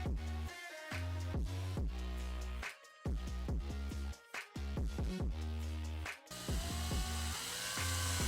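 A power screwdriver drives self-tapping screws to fasten a lamp socket on a mannequin floor lamp, with repeated whirring bursts separated by short pauses, close and fairly quiet.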